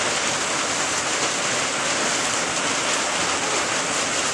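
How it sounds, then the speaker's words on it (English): Steady, dense hiss of rain falling, loud and constant throughout with no pauses or voices. "It's raining."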